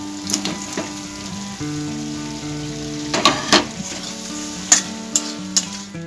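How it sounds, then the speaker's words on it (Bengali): Fried pointed gourd pieces tipped into a hot pan of curry give a loud, steady sizzle, broken by several sharp clinks and scrapes of stirring against the pan. "ভেজে রাখা পটলগুলো দিয়ে দিচ্ছি"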